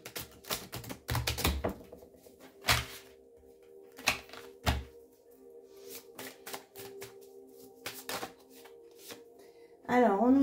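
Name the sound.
shuffling cards for a card reading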